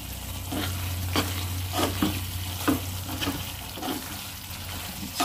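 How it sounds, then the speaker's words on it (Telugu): Kashmiri brinjal masala curry is stirred in a pan after coriander goes in, a spoon scraping through thick gravy in repeated strokes over a gentle sizzle, close and clear, with no voices. "తర్వాత కొద్ది కొత్తిమీర వేసుకొని మిక్స్ చేసుకోవాలి."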